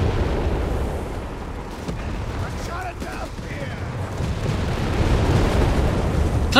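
Explosions blast buildings in Company of Heroes 3, a dense rumbling wash of booms and crackling debris with scattered gunfire, steady and moderately loud, under a commentator talking.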